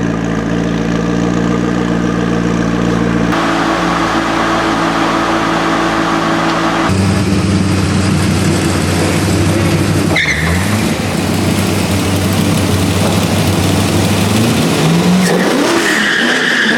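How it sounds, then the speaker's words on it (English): An FI aftermarket exhaust on a car rumbles loud and close, revving up and settling in repeated swells with a steady deep drone between throttle blips, no voices. "This FI exhaust is amazing."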